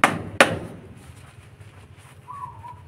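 Two sharp hammer strikes driving nails while building a chicken nest from empty cement bags outdoors, followed by quiet ambience and a faint bird call.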